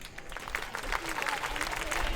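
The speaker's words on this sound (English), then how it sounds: "Please give a round of applause to our gifted actors." Applause from a school audience for student actors at a senior school day event, a fairly soft, diffuse patter of clapping with a faint voice murmuring underneath.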